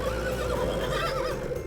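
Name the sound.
horse neighing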